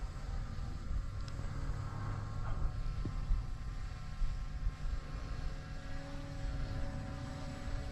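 An HT70 drone flying in breezy weather, its propellers giving a steady, faint whine and hum over wind noise, with no one speaking.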